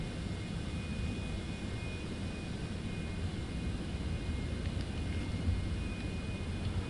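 A Citation X business jet takes off in Microsoft Flight Simulator 2024 on PS5, with a steady, loud engine roar and a thin, high whine held throughout. No one speaks.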